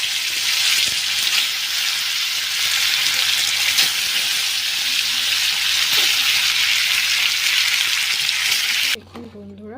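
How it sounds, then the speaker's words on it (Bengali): Fish fries in hot oil seasoned with turmeric, giving a loud, dense, continuous sizzle that holds steady for about nine seconds before cutting off abruptly. "আমি এবারে মাছটা ভাজবো।"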